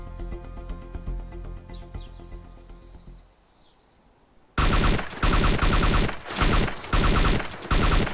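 Rapid automatic fire from a CZ61 Scorpion machine pistol chambered in .380 in DayZ, a loud burst-heavy stream of shots after a quieter stretch of background game ambience, with brief gaps between bursts.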